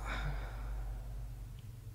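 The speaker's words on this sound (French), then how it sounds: "vous pouvez voir que j'ai changé le son de la respiration." An astronaut's breathing in Kerbal Space Program, a slow, soft airy inhale or sigh heard close over a steady low hum, faint and continuous for a couple of seconds.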